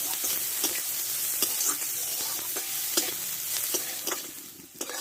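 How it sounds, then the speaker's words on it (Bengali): Chopped onion frying and being stirred in a pan for a Bengali cabbage dish with hilsa fish head, steady close sizzle with repeated scraping stir strokes throughout, no talking. "পেঁয়াজটা ভালো করে ভেজে নেবো একটু"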